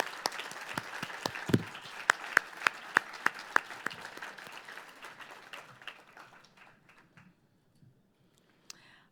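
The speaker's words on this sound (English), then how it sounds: "please join me in a final round of applause for all of our recipients" Applause from an audience at a humanitarian awards ceremony, a dense wash of clapping with a few sharp individual claps, gradually thinning and fading out toward the end.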